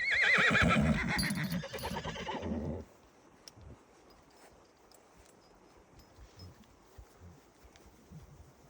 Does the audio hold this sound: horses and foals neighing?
yes